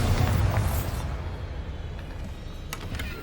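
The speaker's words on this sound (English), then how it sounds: "Bombarda." A Bombarda spell blast in the video game Hogwarts Legacy: one deep, loud boom opens, then rolls off into a low rumble, with a few sharp clicks trailing near the end.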